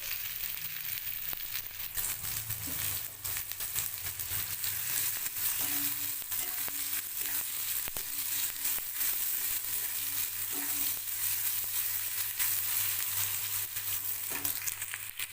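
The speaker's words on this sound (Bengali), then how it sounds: "এই সাদা তেলের মধ্যে আমি দেব পেঁয়াজ কুচি" Chopped onion frying in white oil in a kadai for a chicken dish, a continuous close sizzle with occasional stirring, steady throughout and without voices.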